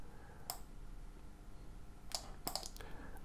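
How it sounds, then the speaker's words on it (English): Sharp computer mouse clicks on an on-screen button, one isolated click and then a quick cluster of two or three, faint and close over low background hiss. "I'll click there."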